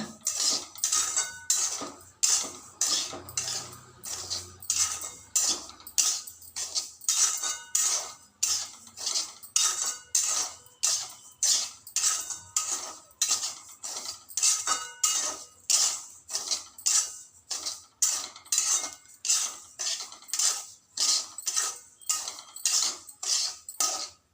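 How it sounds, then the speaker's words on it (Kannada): Semolina dry roasting in a pan for cashew-carrot upma, stirred with a metal spoon; steady, regular scraping and clinking strokes repeat close up for the whole stretch, with no voices. "ಈಗ ಡ್ರೈ ರೋಸ್ಟ್ ಮಾಡ್ತಾ ಇದ್ದೀನಿ ರವೆನ"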